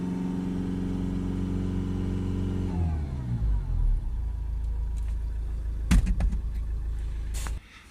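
A Toyota RAV4 2.2 D4D diesel with a particulate trap fault, its engine note holding steady before winding down through a gear change into a low drone, with a few brief knocks and clatters near the end.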